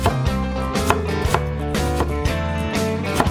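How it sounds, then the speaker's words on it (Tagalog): A knife slices bitter melon into small pieces on a cutting board, giving a quick series of crisp, close chops in an uneven rhythm, with a few louder knocks between lighter cuts. "Hiwain lang ito ng maliliit."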